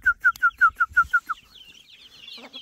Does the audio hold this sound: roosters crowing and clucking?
yes